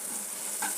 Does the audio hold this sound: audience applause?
no